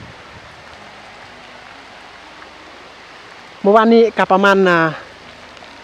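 Rain falls on a village near the Vietnam border, a steady hiss of drops on surfaces that runs throughout; a voice speaks briefly over it near the end.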